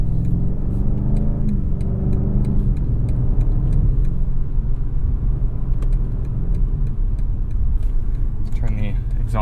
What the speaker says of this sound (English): Mountains of torque coming from this engine.